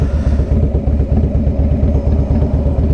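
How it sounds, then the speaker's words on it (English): A motorcycle ridden through North Texas runs loud and close, its exhaust pulsing in a rapid, uneven low throb with clattering engine texture, as if picking up a little speed before faltering. "get the motorcycle up a little bit of speed"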